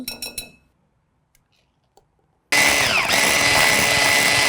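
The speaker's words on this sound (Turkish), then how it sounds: "Etrafa fırlamasınlar diye önce bir önden çırpıyorum" An electric mixer whisks pudding for a Biskrem layer cake: a few light clinks, a quiet pause, then the mixer starts abruptly and runs as a loud, steady whir close by.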